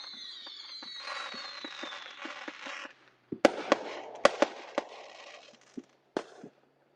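A fizzing, crackling firework rushes up in Tennessee, then a string of sharp bangs pops at uneven intervals, some loud and close, others fainter and farther off.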